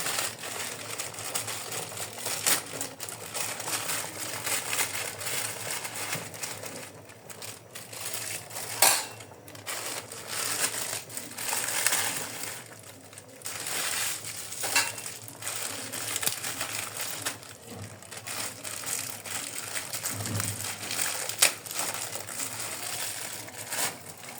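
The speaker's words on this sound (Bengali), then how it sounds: "এই সময় আমি দিয়ে দিব নুডলসগুলো" Dry noodles drop into a pot of boiling water already cooking pasta, giving close, continuous crinkly rustling and clattering against metal, with a few sharper clinks and knocks scattered throughout.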